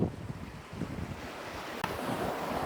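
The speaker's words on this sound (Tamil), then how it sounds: "தண்ணியை பாருங்க அப்படி ஓடி வருது." Water from a well pours and rushes steadily outdoors, a continuous broadband wash with wind-like hiss, fairly close, with no talk over it.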